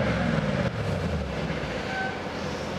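Mercedes-Benz W213 E63s AMG 4MATIC+ engine revving once, a steady close mechanical drone with a faint high-pitched whine rising above it, running alone without talk.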